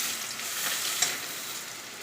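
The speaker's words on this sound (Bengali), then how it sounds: "দেখো আজকে মাছ ভাজা হচ্ছে।" Pieces of rohu fish fry in hot oil, giving a steady, close hissing sizzle with one faint clink partway through and no voices.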